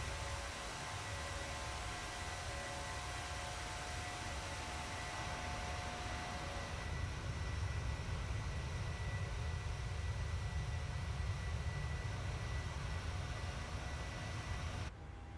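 A steady airliner cabin drone from a flight simulator game as the plane climbs to cruise altitude, a faint, even broadband hiss and rumble with no talking.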